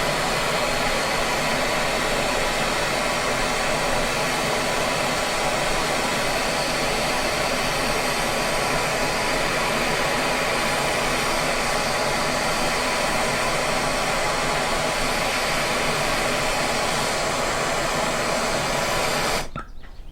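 A propane torch roars steadily while heating a part red hot during a Stihl FS94 recoil repair, a loud continuous broadband hiss that cuts off abruptly at the very end.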